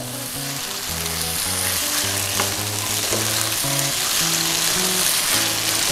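Pork and vegetables sizzle loudly while being stir-fried with red curry paste, a dense steady crackle close to the pan, with a few clinks of stirring.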